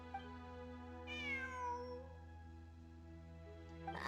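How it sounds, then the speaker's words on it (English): A cat meows inside a video game, a single drawn-out, rising-then-falling meow over a steady hum of game music, with a brief faint sound near the end. "It really is a cat."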